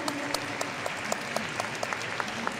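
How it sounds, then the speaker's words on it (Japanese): Steady applause fills a ballroom at a professional standard dance final in Kyoto, a dense patter of many hands clapping without pause. "拍手をお願いいたします。"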